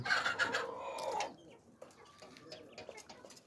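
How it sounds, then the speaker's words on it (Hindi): Aseel chickens cluck and squawk close by on a home poultry farm, with a short rooster-like call early on and scattered quieter clucks afterward. "असील मुर्गा, असील मुर्गा मुर्गी।"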